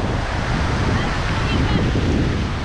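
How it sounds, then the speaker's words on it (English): Ocean waves break and wash onto the sand at Eighty Mile Beach in North West Western Australia. The roar is steady and continuous, with wind buffeting the microphone throughout. "So just watch the waves. They're in."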